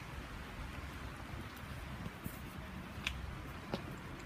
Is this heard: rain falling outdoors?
yes